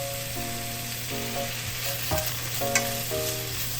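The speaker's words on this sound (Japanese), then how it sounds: "水にさっとさらしたごぼうと人参を入れて軽く炒めていきます。" Burdock and carrot stir-frying in sesame oil in a frying pan over medium heat, giving a steady close sizzle under repeated scraping and stirring strokes from the spatula, with no talking.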